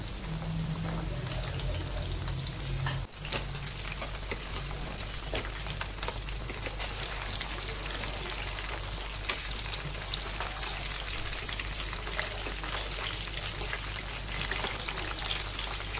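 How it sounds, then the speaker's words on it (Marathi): Pieces of homemade chicken 65 fry in oil with a continuous dense crackling sizzle like steady rain, close and even for the whole stretch. A brief clatter comes early on, and no one speaks. "चांगलं क्रिस्पी होईपर्यंत तळायचं"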